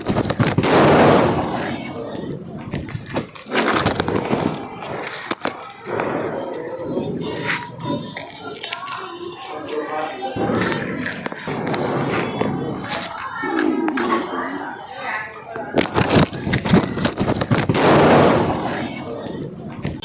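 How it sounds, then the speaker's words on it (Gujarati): Mirchi bomb firecrackers burst at an outdoor New Year celebration, loud sharp cracks and crackling volleys coming in clusters, with voices and shouting around them. "ફોડો ને મિર્ચી બોમ્બ. હાલો તો ફોડી નાખો."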